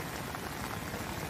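Extremely heavy rain pouring down during floods in southern Tamil Nadu, a dense, steady hiss of water drumming on surfaces, close and constant with no voices.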